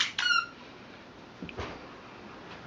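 A dog's squeaky toy gives two sharp high squeaks close by, then faint rustling and quieter squeezes follow.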